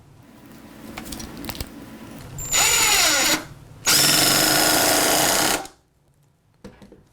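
A Ryobi QuietStrike 18V ONE+ oil pulse driver (P290) runs in two loud, close bursts: about a second, a short pause, then about two seconds. It gives a dense whirring buzz with a steady high whine and quiet gaps around it.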